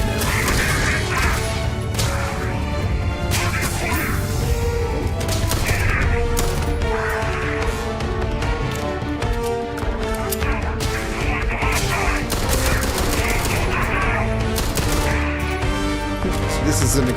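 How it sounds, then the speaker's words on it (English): An extended-mag weapon fires in Starfield, a dense, loud, continuous barrage of shots and impacts under constant game noise and music. "This is an extended mag weapon, so just keep shooting."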